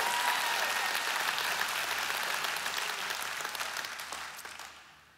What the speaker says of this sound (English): Let's give it up for Jesus in this place.